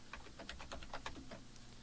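Quick, light keystrokes on a computer keyboard tap out HTML tags in a short steady run, close and fairly soft over a low background hum.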